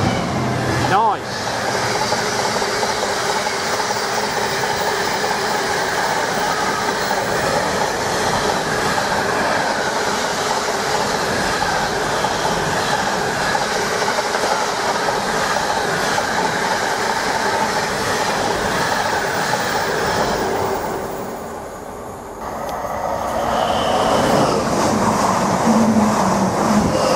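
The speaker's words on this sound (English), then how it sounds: "Our 745 FLIRT unit just raced through at a rapid rate of knots en route to Norwich" A Class 745 FLIRT electric unit races through Needham Market station, making a loud, sustained rushing roar with rail clatter that fades briefly before more rail noise returns.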